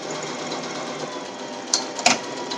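Sewing machine stitching a synthetic top quilt turned inside out, a steady close whirring drone with two brief sharper clicks near the end as the run finishes.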